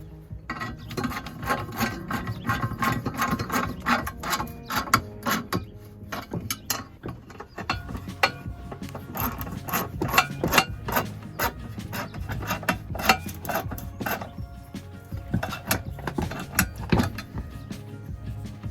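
Bolts being tightened down on a car's evap charcoal canister, with repeated ratcheting, scraping and clicking metal-on-metal sounds in irregular bursts, close up and without talk.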